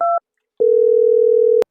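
A telephone line gives a short two-tone beep, a pause, then a steady, loud single tone of about a second that cuts off sharply, with no voices.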